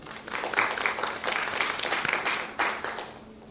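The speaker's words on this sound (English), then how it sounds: "So, round of applause for Achal." Audience applause at a business talk on digital marketing, a steady wash of clapping lasting a few seconds, moderately loud, with a brief surge near the end and no talk over it.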